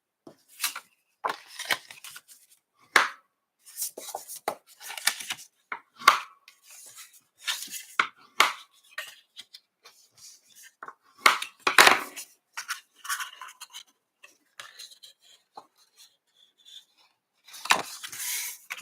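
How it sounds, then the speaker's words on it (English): A bone folder creases and burnishes paper in a craft setting, giving scattered short scraping and rubbing strokes with quiet gaps between them, close and fairly soft, no talking. "So I'm going to bone fold. Fold and burnish these."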